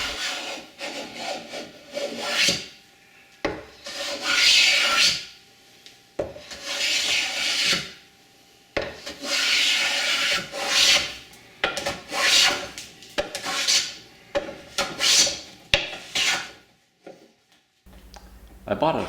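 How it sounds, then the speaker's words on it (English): Wood being scraped and shaped on the back of a child's rocking chair, repeated rasping strokes in uneven bursts with short pauses between, close and fairly loud, with a person talking at times over the work. "Now it's a matter of scraping the glue off the back and then start the process of refining the shape with"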